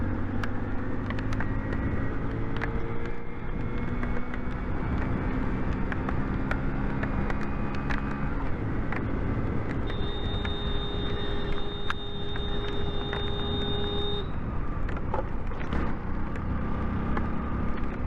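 A Hero Splendor motorcycle rides through rain, its engine a steady close drone with a constant wash of road and rain noise and a few brief tonal whines, continuous throughout.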